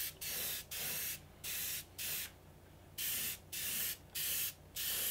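An airbrush sprays paint onto a Meng P-51D model kit, giving nine short, close bursts of soft airy hiss separated by brief pauses, one longer gap midway, with no voices.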